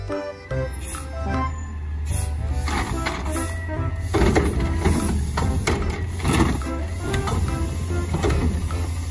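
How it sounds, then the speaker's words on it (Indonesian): A garbage truck's engine runs steadily with mechanical clanks, rattles and whirring, continuous and fairly loud with no talking. "Mobil truk sampah."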